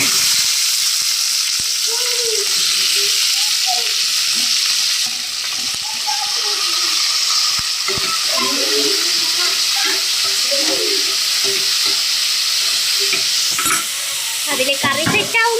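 Curry and tapioca cooking side by side in pans on a home kitchen stove, giving a steady loud sizzle with bubbling and occasional stirring and utensil clinks throughout, no talking.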